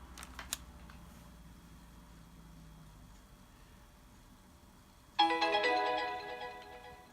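A few faint clicks, then a bright chiming program startup jingle on an IBM ThinkPad T41 laptop bursts in loudly and rings for about two seconds before fading.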